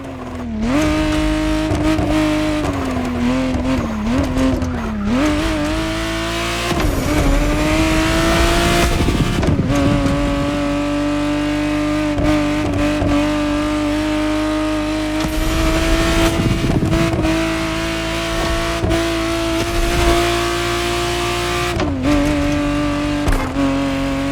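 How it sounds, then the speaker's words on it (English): A 1991 Ferrari Testarossa in the racing game The Crew Motorfest sings with a loud, continuous engine note that rises and falls through revs and gear changes, with brief whooshes between pulls and no talking. "the exact model Motorfest has put in your hands is the 1991 re-engineered version of the Testarossa"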